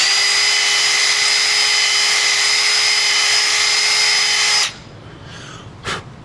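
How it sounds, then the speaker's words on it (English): A power drill spins at high speed drilling through a hole, a loud steady whine for several seconds that cuts off abruptly, followed by a short clunk and quiet handling noise. "Turn the drill up a little bit, get it all nice and clean in there."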